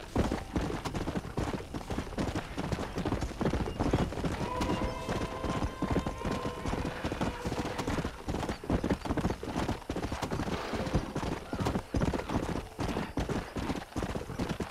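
Horse hooves clip-clop at a steady trotting rhythm in Red Dead Redemption, continuous and fairly close, with a brief whinny and faint talk underneath.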